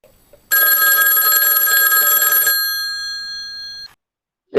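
An old landline telephone's bell rings after dialing, one long loud metallic ring lasting about three seconds, then fading out before a brief sound at the very end.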